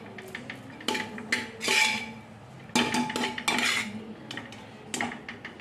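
Ghee and rice go into a cooking pot in a home kitchen, giving a series of sharp metallic clinks and scrapes of a utensil against the pot in irregular bursts, close and fairly quiet, with no talking.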